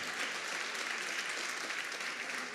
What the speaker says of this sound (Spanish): Den un aplauso a mi mamá